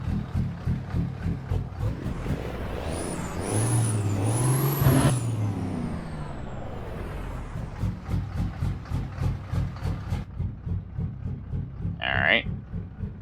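A custom Peterbilt truck in American Truck Simulator, its engine loping at idle in a steady rhythmic pulse. Midway comes a hissing air-brake release with a rising whine, and near the end there is a short sharp hiss.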